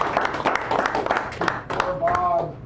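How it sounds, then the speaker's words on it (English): Audience clapping breaks out at a poetry reading in a San Francisco cafe, a scattering of sharp handclaps mixed with murmuring voices, with a voice rising over the claps near the end. "And now to give Dawn a round of applause"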